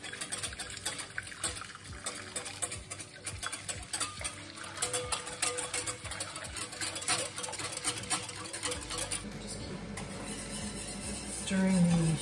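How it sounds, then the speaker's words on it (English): Sugar being stirred in a pot on the stove for a custard tart sauce gives a low, continuous scraping and swishing that runs throughout, with soft clinks of the utensil against the pan. "Stirring the sugar."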